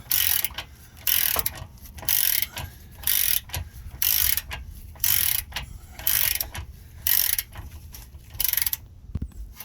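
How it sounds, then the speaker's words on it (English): A ratchet works a front control arm bolt loose on a 2012-2018 Nissan Altima, its pawl rasping in repeated loud bursts of about half a second with brief pauses between strokes. "I'm just going to turn this bolt till I get this nut here completely loose"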